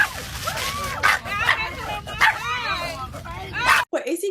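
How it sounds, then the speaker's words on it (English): An excited dog goes wild over McDonald's fries, letting out rapid yips, whimpers and short barks close by, with people talking and laughing over the noise. "When your dog goes crazy over McDonald's fries"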